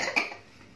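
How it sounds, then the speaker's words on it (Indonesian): One brief, fairly quiet cough with a breathy tail, alone in a quiet room. "Batuk dia."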